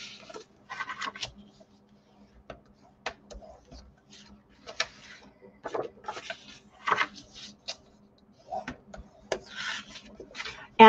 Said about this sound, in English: we're just going to go through and burnish our score lines.